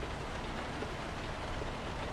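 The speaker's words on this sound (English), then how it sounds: "the rain is spitting up in your windshield like it would in real life" Steady rain pattering on a truck windshield while driving in American Truck Simulator, a dense, even hiss of drops lasting throughout at constant loudness with no voices.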